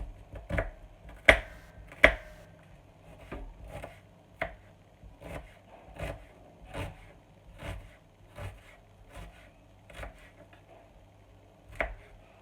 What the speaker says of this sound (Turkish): Hepsini doğrayacağım soğanlarımı.